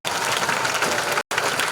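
Church congregation applauding for Jesus, a dense steady burst of many hands clapping that breaks off briefly and then resumes.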